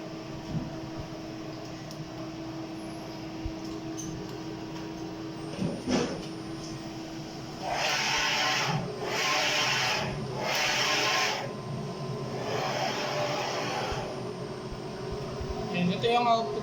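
Inkjet printer running a nozzle check print after a head cleaning, with a steady background hum broken by several bursts of mechanical whirring and carriage movement, close by, while a voice talks at times.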